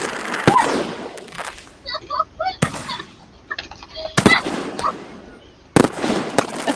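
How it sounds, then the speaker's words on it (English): Fireworks going off outdoors: sharp bangs and crackling bursts with whistling pops scattered through, moderately close, with faint voices in the background. "Our fireworks around here."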